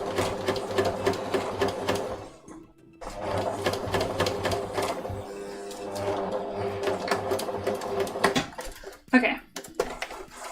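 A sewing machine stitches a waistcoat in fast rattling bursts separated by short pauses, close and fairly loud, while a person talks intermittently in between.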